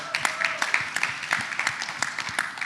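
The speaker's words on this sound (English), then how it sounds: "round of applause." Applause from a small audience, a brief run of distinct, moderately close hand claps in an uneven patter, fairly light and continuous throughout.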